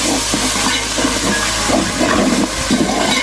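Shallot paste frying in a hot pan for Kerala beef varattiyath, a steady loud sizzling hiss close up, continuous throughout with no talking.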